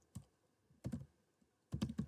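Typing on a computer keyboard, three short bursts of close, crisp key clicks separated by pauses.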